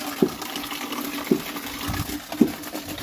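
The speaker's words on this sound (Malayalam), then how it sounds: "ഇതിപ്പം വെള്ളം അടിക്കുന്ന സൗണ്ടാണ് കേട്ടില്ല ആ വെള്ളം നിറഞ്ഞ ടാങ്കിൽ" Steady rushing water pours into a tank, with three dull thuds falling about a second apart.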